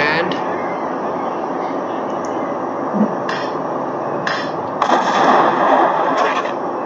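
Grenade explosions in the video game Max Payne, heavy booming blasts over a constant rumbling din of game noise, with a few sharper bursts standing out near the end.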